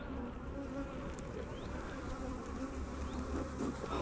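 Honeybees at an opened hive during a brood box inspection, a dense, steady buzzing hum all around, close and continuous with no talking.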